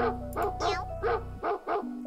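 A dog barks in the Roblox Meme Sea video game, six short, loud yapping barks in quick, fairly even succession over a low game hum.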